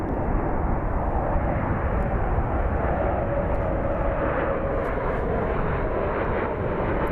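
A loud, steady roar of an airplane coming in low to land at Sky Harbor Airport fills the whole stretch, close and constant, with no talking.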